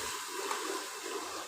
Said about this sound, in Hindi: थोड़ा सा पानी लगा लेंगे ताकि हमारे मसाले जले नहीं, अच्छे से भून जाए।